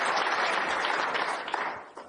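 Snooker crowd at the 2021 World Championship applauding a recovery shot, a steady, dense clapping that fills the hall and fades slightly toward the end.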